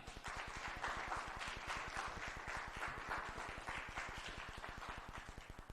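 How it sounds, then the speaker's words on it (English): A conference audience applauds a speaker called to the stage, steady dense clapping that runs throughout at a moderate distance and stays fairly quiet. "a big round of applause for Mr."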